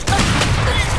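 A grenade explodes in the video game Valorant as a loud, dense booming burst that fills the whole moment, close and heavy with a rough crackling tail.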